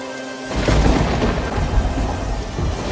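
Thunder suddenly breaks out after a short pause and rumbles on, loud and close, over heavy pouring rain in a village storm.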